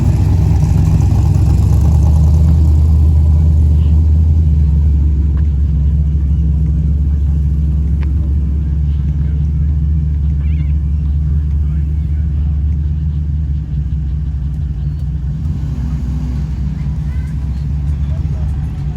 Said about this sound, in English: a lot of these cars were out cruising the promenade down along the foreshore